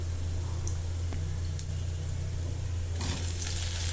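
Colocasia (taro) frying in a pan gives a steady, close sizzle under a low hum, with a brief clatter near the end and no talk.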